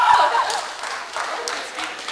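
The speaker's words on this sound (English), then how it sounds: "Give a round of applause." An audience at a community club anime costume event gives a round of applause, a moderate wash of clapping with cheering voices over it.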